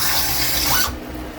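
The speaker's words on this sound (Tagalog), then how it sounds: "At maglagay tayo ng tubig" Water poured from a tap into a cooking pan for fish with dark soy sauce, a steady close rush of running water that stops abruptly partway through, leaving quiet kitchen background.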